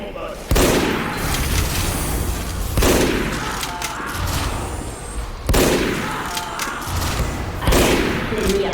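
Sniper gunfire in a shooter video game, several loud sharp shots spaced a few seconds apart, each followed by a booming tail, close and dominant over a busy background.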